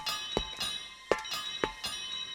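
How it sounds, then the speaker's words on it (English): A locomotive bell rings in a few uneven metallic strikes, each with a short ringing decay, clear and fairly close. "He had heard the banging and Toby's bell ringing."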